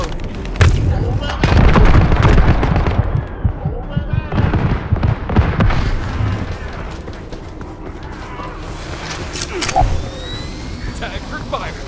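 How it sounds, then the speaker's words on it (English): Fireworks in the video game The First Descendant: loud booming bursts and crackling blasts, dense in the first half and thinning toward the end, with game voices speaking over them. "Tag for fireworks."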